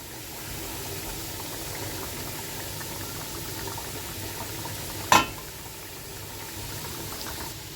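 A pot of egg curry with fried eggs simmers with a low, steady bubbling hiss throughout, broken once by a brief sharp clink.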